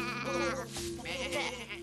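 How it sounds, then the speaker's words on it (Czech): A sheep bleats in a drawn-out, wavering call, fairly close and loud, with a second shorter bleat following. "Přišli jste navštívit ovce?"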